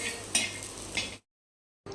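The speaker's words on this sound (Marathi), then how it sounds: "आणि आता आपण खोबरं घेतलेलं आहे थोडं, ते पण आपण ब्राऊन होईपर्यंत भाजून घेऊया" Grated coconut dry-roasting in a pan until brown, heard as soft, steady scraping and stirring with a couple of sharper utensil clicks, then a sudden break into silence before the stirring briefly resumes.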